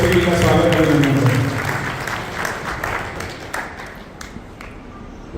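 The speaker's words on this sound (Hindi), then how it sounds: "एक बार जोरदार तालियों से माननीय पतन जोशी जी का स्वागत करेंगे।" Crowd applause welcoming a guest at the opening of an ashram in Haridwar, a dense burst of clapping that swells at the start and then thins out gradually over several seconds.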